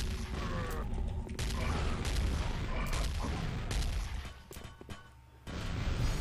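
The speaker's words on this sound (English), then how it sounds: "Grenade launcher!" Grenade launcher explosions in Quake Mission Pack 2: Dissolution of Eternity on a lava level, a dense run of loud booms and crashes with a brief quieter gap before the blasts resume.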